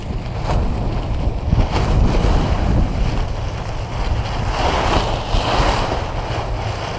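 Strong wind buffeting a microphone outdoors, a continuous loud low rumble with gusty swells throughout and no talking.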